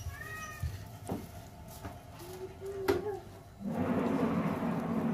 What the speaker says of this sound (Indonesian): ini kucing persilangan ya antara kucing Persia yang dikawin dengan kucing domestik